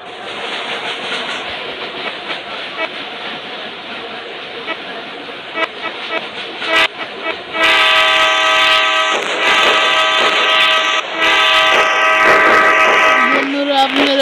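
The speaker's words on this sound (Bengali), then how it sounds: "চলো ট্রেন নিয়ে নিই।" A train in the Indian Bike 3D mobile game rumbles along with clickety-clack, then sounds a loud, sustained horn that starts partway through and holds strongly over the rolling noise to the end.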